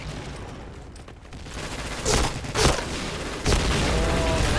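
Several booming blasts from grenade explosions land in quick succession over dense background gunfire and battle noise.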